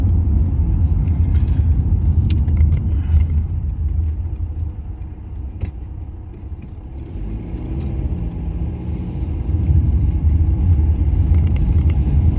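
A car driven around the block rumbles with a low, steady engine and road noise from inside, the level dipping briefly midway and then rising again.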